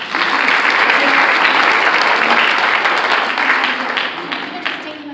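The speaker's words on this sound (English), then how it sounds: "Let's give everyone a little round of applause for" An audience at a talk applauds during a question-and-answer session. Full, sustained clapping from many people starts strong and slowly tapers off toward the end.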